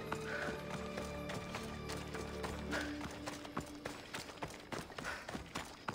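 Rapid hoofbeats of a galloping horse in Assassin's Creed Odyssey, steady and fairly close, layered over continuous game ambience and a low drone.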